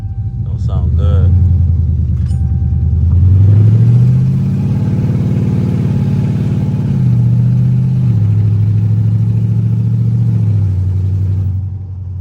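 A Dodge 300 Scat Pack with a swapped engine and exhaust idles, then revs up loudly into a long, steady, deep rumbling hold before settling back, close to the car, with a voice heard briefly at the start.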